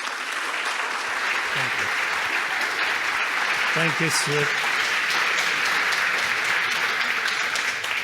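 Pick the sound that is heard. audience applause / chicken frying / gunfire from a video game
audience applause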